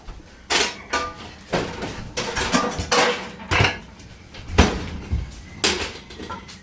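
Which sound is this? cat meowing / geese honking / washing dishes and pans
washing dishes and pans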